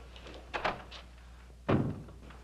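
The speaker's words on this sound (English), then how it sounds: "Close the door." A door being closed on a 1958 western television series set at a cavalry post: a light knock or handle rattle, then a single firm thud as the door shuts, in a quiet room.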